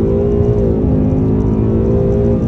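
A Ford Mustang GT base model accelerating hard with traction control on during an acceleration run, its engine giving a loud, steady, rising roar that holds close and continuous throughout.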